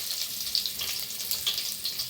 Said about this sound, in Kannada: ಸೊ ಗೈಸ್, ಎಲ್ಲ ರೋಸ್ಟ್ ಮಾಡ್ಕೊಳ್ಳಿ ಎಣ್ಣೆಯಲ್ಲಿ.